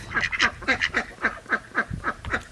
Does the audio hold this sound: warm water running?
no